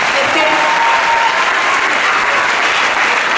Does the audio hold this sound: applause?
yes